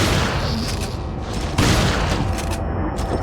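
Shotgun gunfire and booming blasts in the video game Resident Evil 4, loud and dense, with a sharp boom partway through over continuous game noise.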